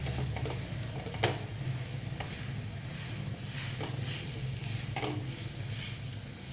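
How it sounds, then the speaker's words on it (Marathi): Grated sweet potato is sautéed in ghee, a soft steady sizzle under a low background hum, with occasional spoon stirs and scrapes against the pan at intervals; no speech. "बघा इथं आपला रताळ्याचा किस दोन तीन मिनटं आपला परतून झालेला आहे"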